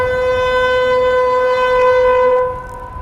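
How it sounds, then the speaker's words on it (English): An Imperial War Horn in Skyrim sounds one sustained, steady brass-like blast that holds for about two and a half seconds before cutting off, loud and alone with no voices. "you can see an Imperial soldier stand and blow through an Imperial War Horn"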